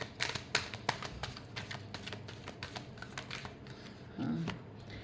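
Tarot cards shuffled by hand during a reading, a crisp run of quick papery riffles and flicks, close and moderately loud, with no talking.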